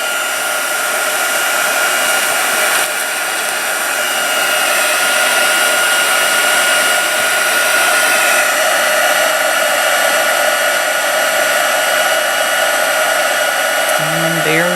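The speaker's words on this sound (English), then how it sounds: "Let me turn around and grab my heat tool. Just gonna turn that on really quick." A handheld heat tool for card-making crafts blows a steady, loud whooshing roar without a break for the whole stretch, with no talking over it.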